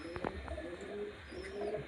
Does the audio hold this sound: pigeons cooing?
yes